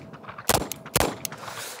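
Two sharp, loud shots from a Sig Sauer X Series 1911 pistol firing PMC hollow point rounds, about half a second apart, with a fainter metallic click after.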